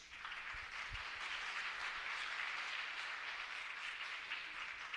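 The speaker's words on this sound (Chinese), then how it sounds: "我们一起拍手来欢迎他。" A congregation at a church youth ministry service claps to welcome a student speaker, producing a steady, dense wash of applause that holds evenly throughout.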